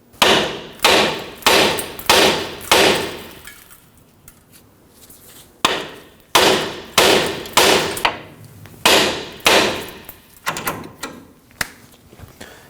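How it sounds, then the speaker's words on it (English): A hammer strikes the steering knuckle of a 2009-2014 Ford F-150 to free the outer tie rod. Loud, close metallic blows come in two rhythmic bursts of about seven each, separated by a short quiet pause. "To release the outer tie rod from the knuckle, we'll go ahead and strike the knuckle right here"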